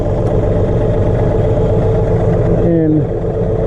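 A John Deere 3039R compact tractor, with a backhoe being removed, pulls forward slowly in first gear: a steady, loud, close engine drone that holds evenly, then dips briefly with a falling tone near the end.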